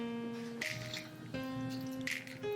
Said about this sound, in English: I'm gonna add some water to this mixture because it's like really hard now